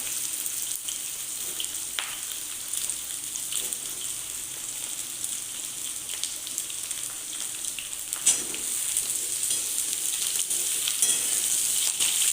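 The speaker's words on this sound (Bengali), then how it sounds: "আস্তে ধীরে এটাকে ভেজে নেব" Eggplant and potato frying in oil in a pan, a steady broadband sizzle running throughout with a brief scrape or stir near the middle, loud and close, no talking.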